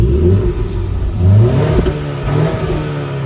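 A stock Ford Mustang EcoBoost engine revs up and down in repeated swells, loud and close, with a steady low rumble between the rises.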